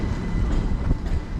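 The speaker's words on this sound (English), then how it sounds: "so fast Pendolino just heading through." A fast Pendolino train, class 390, rushes through a station in a brief continuous roar with a rumbling rail rattle, close and loud.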